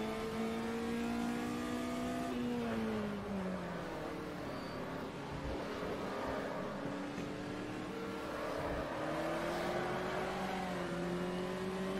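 A race car engine from the Automobilista racing game, Brazilian classics at Goiânia, revving hard with a clear downshift and pitch swings, loud and continuous throughout, without speech.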